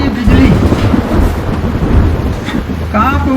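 Deep thunder rolls in a continuous low rumble through a night storm, loud and close, with a faint voice-like cry rising near the end.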